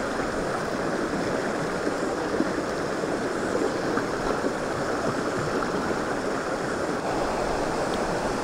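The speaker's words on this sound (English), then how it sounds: "There's a side stream joining here. There's a slow glide after some rapids." Continuous rushing water from a New Zealand river in Te Urewera, where a side stream joins below rapids, fills the scene with a steady broadband wash, mixed with light wind and no talking.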